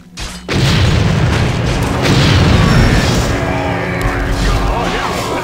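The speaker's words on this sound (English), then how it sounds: "It's a big explosion." A big explosion in Warcraft III booms loud after a brief quiet start, followed by a long, dense rumbling roar with crackling debris that slowly fades.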